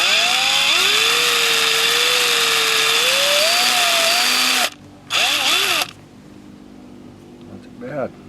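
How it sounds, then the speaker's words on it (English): A drill spins a Q-tip to clean a drain hole on a 1961 Red Briggs engine, whining steadily with wavering pitch, briefly stopping and restarting before cutting out to quiet handling noise. "Probably spin it with a drill."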